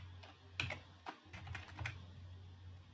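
Quick bursts of keystrokes on a computer keyboard, a few clustered taps and clicks close to the mic over a steady low hum, with no talking.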